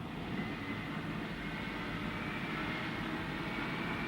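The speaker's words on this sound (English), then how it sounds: "As aircraft arrived and departed around the clock" Military aircraft from the 1990–1991 Persian Gulf War roar steadily overhead near an aircraft carrier deck, a continuous, loud, broadband engine rumble with no pauses or talk.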